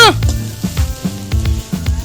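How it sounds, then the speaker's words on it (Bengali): Fish roe frying together with potato and onion makes a close sizzle broken by repeated rhythmic scraping bursts, like stirring in a pan, about every half second. "মাছের ডিম দিয়ে আলু পেঁয়াজ আর মাছের ডিম একসঙ্গে ভাজা হচ্ছে"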